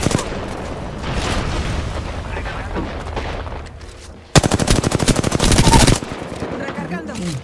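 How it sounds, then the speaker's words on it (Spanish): Automatic gunfire in the Apex Legends Arenas mode, a dense run of rapid shots bursting loudly for a couple of seconds over an earlier stretch of busy game noise and distant firing. "¡Me están disparando!"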